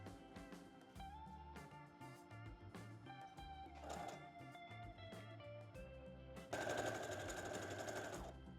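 A sewing machine stitches the inseam of beach cover-up pants in quick bursts of rapid mechanical whirring with short pauses between, then runs a longer, louder continuous stretch near the end.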